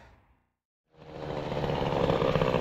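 A Peugeot 103 SPX moped fitted with an Airsal T5 exhaust extension starts after being pushed: a brief scuffle, a short silence, then the two-stroke engine catches and revs up into a loud, buzzing, close run.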